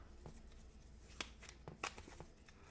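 A big deck of fish cards from the board game Wingspan being shuffled by hand on a tabletop, soft riffling flutters with a couple of sharper snaps, quiet and close.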